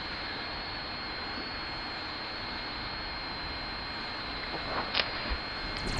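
Scout planes fly in Supreme Commander: Forged Alliance, a steady broadband jet-engine drone holding level throughout, with a few faint chirps and clicks from other game units near the end.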